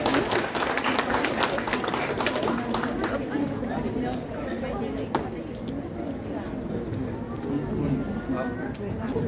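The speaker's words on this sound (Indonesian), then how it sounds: "Kita beri tepuk tangan untuk Ustadz Salim Afilah" Audience applause welcoming Ustadz Salim Afilah to the front at a religious gathering, dense steady clapping from a crowd lasting several seconds with chatter mixed in.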